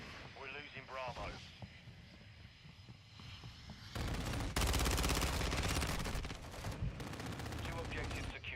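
Automatic gunfire and explosions from a Call of Duty MW3 multiplayer match, loud sustained bursts of fire mixed with blasts and game audio, with a voice talking early on and game voices throughout.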